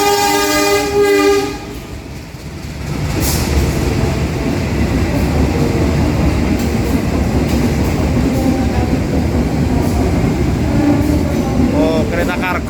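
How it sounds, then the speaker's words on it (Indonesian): A train horn sounds loudly at first, then a freight train rolls past on a railway line near Surabaya, Indonesia, with continuous rumbling, clattering wheels and brief squeals, close and sustained. "Oh, kereta kargo teman-teman."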